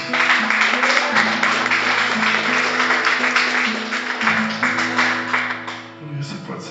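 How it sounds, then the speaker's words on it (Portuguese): A church congregation claps steadily throughout the service, a dense, sustained wash of applause layered over held keyboard or organ chords that shift pitch midway. "Dê mais um aplauso ao Senhor Jesus."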